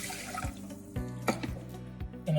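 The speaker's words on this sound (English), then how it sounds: "We're gonna add the white rice and the water." White rice and water poured into a pot, with a liquid gurgle and splash followed by a few rhythmic dull knocks of the pot or pouring vessel, close by.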